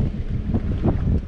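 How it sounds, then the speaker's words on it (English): Wind gusting across a beach, a steady low rumbling buffet with slight swells over a brief moment, close and fairly loud, with no voices. "It's kind of windy out here."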